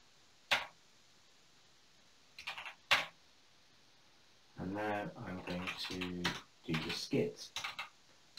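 Separate keystrokes click on a 6502 homebrew computer keyboard, a few isolated taps followed by a quicker run of typing, with someone speaking over the later part.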